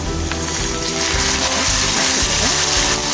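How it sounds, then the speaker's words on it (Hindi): Water pours into a pan of dark-browning onions being fried for dhaba-style egg curry, a steady gushing hiss with crackle, close and loud throughout with no talking. "इसमें हम थोड़ा पानी डाल देंगे।"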